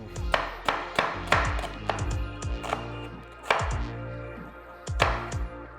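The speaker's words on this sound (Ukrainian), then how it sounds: "і наріжемо цибулечку" A knife chops through onion on a cutting board in uneven bursts of sharp thuds, close and clear, with short pauses between runs of cuts.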